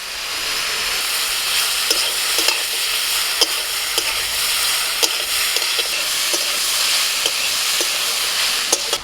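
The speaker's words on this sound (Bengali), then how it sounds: "ঝিঙেটাকে মিনিট পাঁচের মতো আমি একটু নাড়াচাড়া করে নিয়েছি" Ridge gourd stir-frying in a pan with salt and ginger paste: a steady, dense sizzle with sharp spatula clicks and scrapes scattered throughout, close and fairly loud, no talking.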